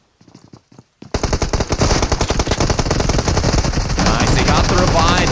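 Rapid automatic gunfire rattles through PUBG Mobile during an esports scrim match, dense bursts of shots running nearly continuously after a brief quiet start with a few isolated pops, loud and close with faint voice underneath.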